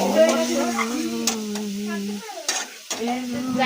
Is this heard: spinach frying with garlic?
yes